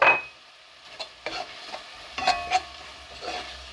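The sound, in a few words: spices added to sizzling paella pan, stirring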